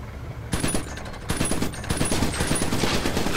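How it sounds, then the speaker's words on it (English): Rapid automatic gunfire from the video game Iron Brigade blasts away at a fake tube target, loud sustained bursts starting after a brief quiet lead-in and running steadily to the end. "Now take aim at that fake tube target and blow it away."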